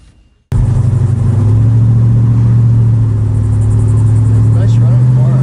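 A 1971 Plymouth GTX with its original 440 V8 starts and settles into a loud, steady idle with a deep low rumble, heard close up.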